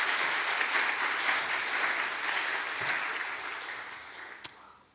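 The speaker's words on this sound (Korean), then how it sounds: "다시 한번 박수로 축복해 주셨으면 좋겠어요" A church congregation applauds in a steady, dense wash of clapping that holds for several seconds and gradually thins toward the end, with one sharp louder clap near the close.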